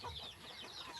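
Backyard chickens raised by the household cluck and chatter together at feeding time, a steady busy flock murmur with no one talking.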